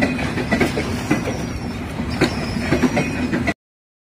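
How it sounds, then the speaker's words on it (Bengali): Rupsha Express passenger train running past a pond near Jaipurhat railway station, a steady rumbling roll with repeated wheel clatter on the rails, close and fairly loud throughout with no talk. "আমরা গোসল করছি, পাশ দিয়ে ট্রেন যাচ্ছে।"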